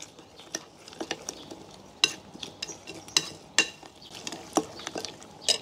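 Thai-style pomelo salad with sugar, onions, bagoong, patis and Thai lime is stirred together, giving soft wet squelches broken by sharp irregular clinks of a utensil against the dish, close up and without talk.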